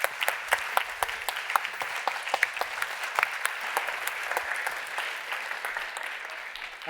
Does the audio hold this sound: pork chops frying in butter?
no